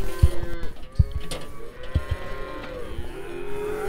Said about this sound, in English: We're letting all the cows out into the new pasture over there